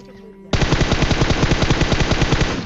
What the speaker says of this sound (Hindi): वो वाला बंदा जो है सप्रेस M4 से फायर कर रहा था ये वाले लोगों पे ताकि वो इनको मार सके